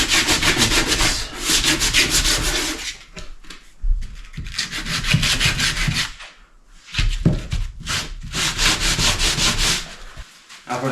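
Wood pieces sanded during a hidden floor storage build, with long stretches of steady abrasive rubbing broken by short pauses, loud and close, with no talk.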